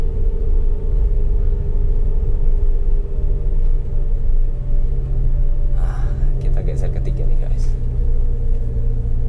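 Toyota Rush engine labouring up a steep hill in low gear, a loud, steady, heavy rumble and drone heard from inside the cabin, with a voice talking over it.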